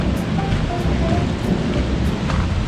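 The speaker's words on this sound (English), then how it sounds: "Yep, it's raining." Rain falling steadily during a summer hail storm over a garden, a constant close hiss and patter with low rumbling thunder underneath, no voices.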